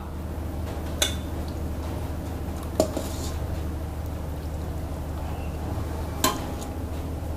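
Spicy Thai pork leg soup is ladled from a pot into a bowl, with a few sharp clinks of ladle on pot and bowl spaced several seconds apart over a steady low hum.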